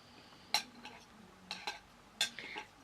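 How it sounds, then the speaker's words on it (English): Cutlery clinks and scrapes against a plate while someone eats pancakes, a few sharp separate contacts spaced through a quiet room, close and fairly soft. "I know some people get really funny about hearing the cutlery on the plate"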